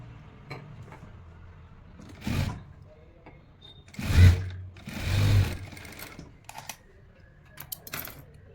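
A sewing machine stitching blouse fabric, running in a few short bursts of whirring stitches, loudest around the middle, with quiet handling noises between runs and no speech.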